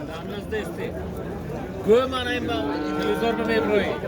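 A young bull calf moos loudly and close by at a busy livestock market in Boysun, one drawn-out bellowing call rising over a background of crowd chatter and voices.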